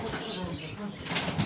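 Pigeons burst out of a loft, wings flapping in quick, soft fluttering bursts close by, faint and brief against background noise.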